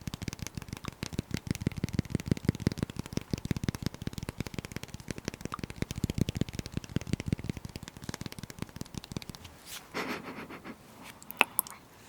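Coated paper wrapper crinkling and rustling close up as a block of unsalted Bordier butter is unwrapped, a dense run of crisp crackles for about ten seconds, then a few sparser rustles.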